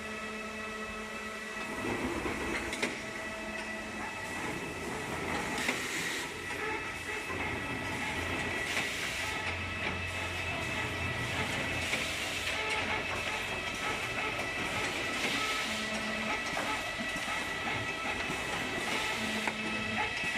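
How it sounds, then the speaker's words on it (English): A vine nursery machine strips buds from grapevine rootstock shoots and cuts them to length, giving a continuous mechanical rattle and hiss with recurring clacks and brief whirs, steady and fairly loud throughout. "They're going through this machine that will take off all the buds, cut it to size, and clean this whole thing up for becoming a rootstock"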